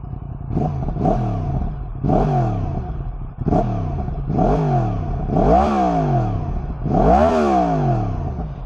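A Triumph motorcycle engine revving in repeated rising and falling bursts with its exhaust valve open, close and fairly loud, about six throttle blips in a row with no talking.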